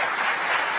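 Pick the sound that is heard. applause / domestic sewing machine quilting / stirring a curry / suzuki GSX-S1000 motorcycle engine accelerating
applause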